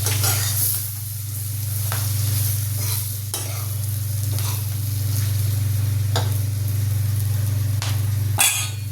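Dry masala of gram flour sizzles in a pan while a spoon stirs it, steady frying hiss with a low hum underneath and scattered scraping clicks of the spoon, close and continuous.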